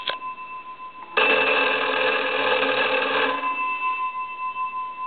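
An old Wesco wooden wall telephone's bell, rung by a test analyzer after the crank connections are removed, clatters in one loud, steady ring of about two seconds after a brief opening tap, then fades.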